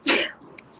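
A single sharp sneeze, loud and close, bursting out at once and fading quickly, with a small click just after.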